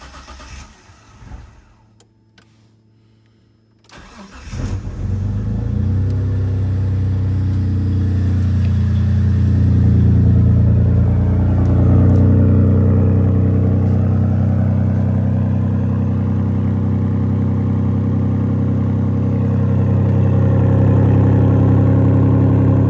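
Engine of a 3000 drift car starting inside a garage after a few quiet knocks, then settling into a loud, steady mid-pitched idle that carries on as the car is moved out.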